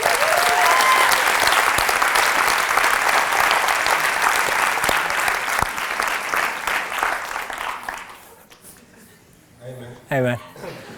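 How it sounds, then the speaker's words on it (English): Loud, dense audience applause at a university talk by a speaker, a full crowd clapping strongly before it thins and fades out, with a brief spoken voice near the end. "Give a round of applause."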